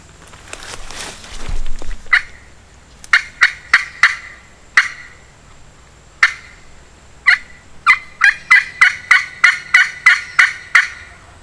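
Several wild Osceola turkeys gobble in quick repeated bursts at a distance in Florida, the calls coming in clusters and overlapping toward the end, after a brief rustle.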